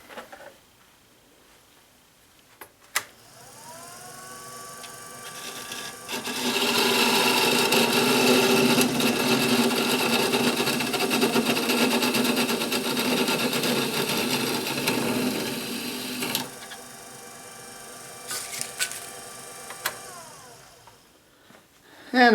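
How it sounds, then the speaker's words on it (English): A parting tool cuts a small wooden spinning top free on a wood lathe, giving a steady loud grinding whir for about ten seconds, framed by quieter motor hum and brief clicks before and after. "I'm going to get my little parting tool, and I'm going to go ahead and part this top off the lathe."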